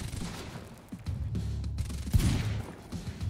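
Heavy pistol shots in the video game Quantum Break, a loud burst of booming gunfire layered over dense game action and explosion-like rumble, with several sharp reports clustered near the middle.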